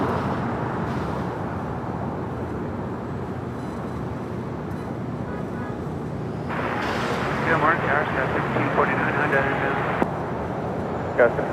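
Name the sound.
China Airlines Cargo Boeing 777 freighter landing at LAX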